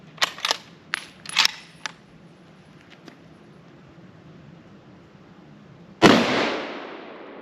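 Winchester Model 70 rifle chambered in .30-06 Springfield firing 165 grain Sierra Match King rounds outdoors: one loud, sharp report with a long decaying echo, preceded by faint clicks and handling noises.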